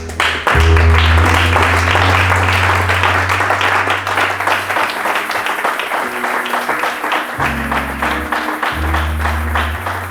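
Church congregation applauding steadily throughout, dense rhythmic clapping with crowd noise, while a low organ or keyboard drone sustains underneath and pauses briefly near the end.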